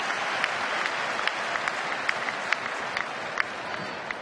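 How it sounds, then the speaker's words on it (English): Baseball stadium crowd applauding a fielder's diving effort on a ball hit just out of reach, steady broad clapping from a distant crowd with a few sharper claps standing out. "And a nice round of applause for Ryan for the effort."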